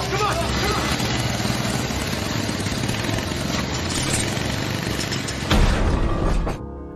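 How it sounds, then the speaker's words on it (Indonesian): A homemade motorcycle engine assembled from scrap bicycle parts runs with a rough, continuous mechanical drone, then a sudden loud burst near the end cuts off into near silence, with narration over it. "mesin itu berhasil menyala, namun baru sebentar mesin itu pun meledak"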